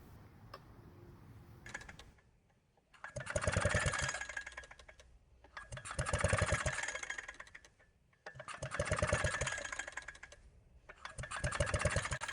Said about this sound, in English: Then I'll pull the rope a few times and watch for spark at the plug.